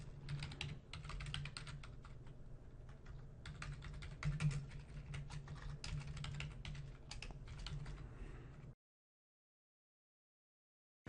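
Steady, close clatter of keys on a computer keyboard as a workflow name is typed into a form, continuous for several seconds and then stopping into silence.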